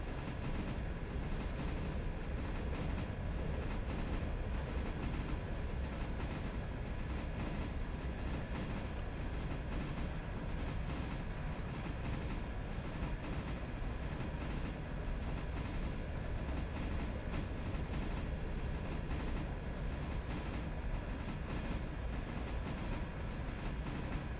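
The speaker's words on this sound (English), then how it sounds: "here we are coming into Bryson, squealing our wheels real good" A steam train rolling into Bryson makes a loud, continuous rumble of wheels on rails with metallic squeal mixed in, steady throughout.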